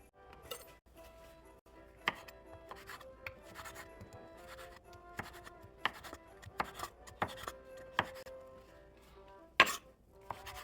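A knife dicing orange peels that were soaked in orange juice, a run of crisp, irregular chopping taps on a board, close and fairly quiet, with a sharper clack near the end.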